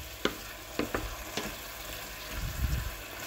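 Food cooked with oyster sauce being stirred in a pan over a steady sizzle, with a few sharp utensil scrapes and clacks against the pan and a low rumbling stir near the end, close up.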